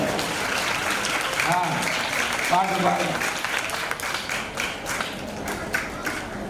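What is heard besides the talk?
church congregation clapping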